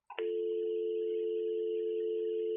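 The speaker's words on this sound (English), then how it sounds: "Now press hook and listen for dial tone." A Brother MFC-J5955DW fax machine gives a steady, continuous telephone dial tone after a short click at the start. The tone sits close and clear and plays alone with no talk.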